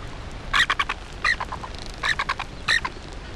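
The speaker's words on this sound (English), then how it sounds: "Frigate birds, they're called." Frigate birds call at sea off the coast of South America, four bursts of harsh, squawking cries spaced about a second apart over a faint background, with no voices.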